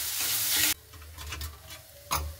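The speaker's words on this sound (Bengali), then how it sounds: "এবার সবগুলো উপকরণ দিয়ে খুব সুন্দর করে আমি এবার নাড়াচাড়া করে নেব" Mashed potato with turmeric and spices is stirred in a frying pan: a burst of hissing sizzle, then soft scraping strokes and a final loud sizzling scrape, close and with no talk.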